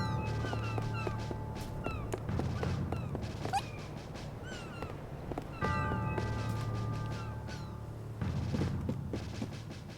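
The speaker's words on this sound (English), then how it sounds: "Our friend, the cat." A cat meows within the fantasy game Trials of Mana, with several short calls scattered over a busy bed of game music and effects, moderately loud with no talk.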